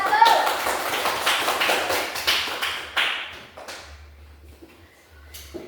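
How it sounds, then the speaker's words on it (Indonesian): A class claps for a student group after its presentation, in a burst of scattered hand claps with children's voices mixed in, loudest at first and then thinning into a few separate claps before near silence. "tepuk tangan untuk kelompok 1"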